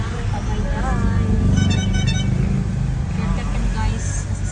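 Heavy road traffic on the drive toward Tagaytay, a dense engine rumble with short car horn toots breaking through near the middle and end, while people talk over the noise.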